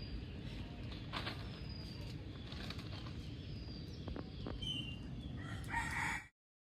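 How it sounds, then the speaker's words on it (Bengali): Rooster crowing in the morning in a rural village, a faint, distant call rising over steady outdoor background noise before the sound cuts off. "সকাল সময় মুরগা মশাই ডাকতেছে"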